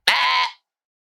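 A single bleat from a fat, lazy mountain goat, loud and close, lasting about half a second and heard alone with no talking.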